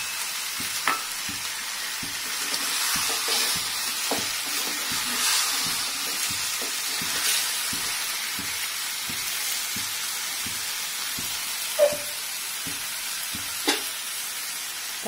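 Small bommidalu fish frying in a pan give off a constant soft sizzle, while a spoon stirs them gently with repeated light scrapes and taps, plus a couple of sharper clinks near the end; no voices.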